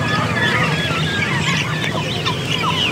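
A dense chorus of clucking and crowing chickens, including Kadaknath birds, at a Sunday poultry market in Nellore, loud and continuous, with birds calling over one another in a busy crowded space.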